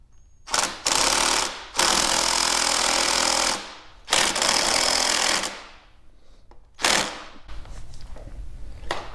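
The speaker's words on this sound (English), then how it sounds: "I'm going to use a 17 millimeter socket to just drive that on." Power tool driving a 17 mm socket during a MotoCult Stage 4 Plus kit install on a CSC SG250 motorcycle, several loud close bursts of buzzing, rattling impact with short pauses between them.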